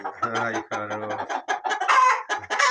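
Chickens cluck close by in quick, overlapping bursts, with a rooster's low call mixed in and short pauses between the noisy clucking.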